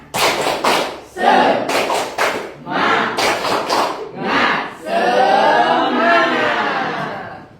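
A classroom of students performs a patterned spirit clap, loud rhythmic bursts of claps in sets with brief pauses, followed by a sustained group shout of voices.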